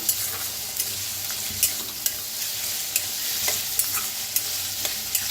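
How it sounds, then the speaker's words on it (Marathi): Spice masala roasting with raw peanuts in a pan, a steady close sizzle with repeated sharp scraping stirs throughout, no voices. "मसाला सगळा असा भाजून घेऊया."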